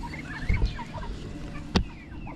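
Chickens cluck and murmur in a small backyard poultry pen, a few close soft clucks and calls with a brief louder knock or flutter near the end, against quiet outdoor background.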